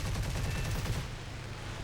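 A BF 109 G-6 fires its 30mm cannon in War Thunder, a rapid, loud burst of heavy, evenly spaced shots for about a second before it stops and engine noise remains.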